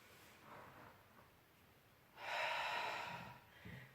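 Breathing in and out during a Swiss ball exercise routine: a soft inhale early, then a stronger, longer breathy exhale midway, close to the mic and alone.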